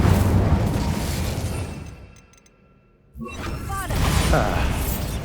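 Incendio fire spell cast in the video game Hogwarts Legacy, a loud burst of roaring, crackling fire that drops into near silence, then flares up again with another sustained fiery blast.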